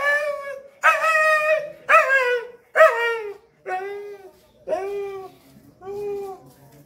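A street dog at night gives a series of about seven whining, howling yelps and barks, each drawn out with rising and falling pitch, close and loud, separated by short pauses.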